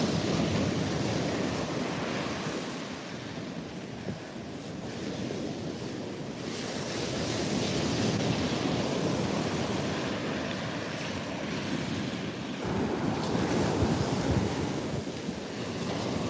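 Turbulent ocean surf crashes steadily under strong wind, a dense, continuous roar of breaking waves and gusting wind noise buffeting the microphone, swelling and easing throughout with no voices.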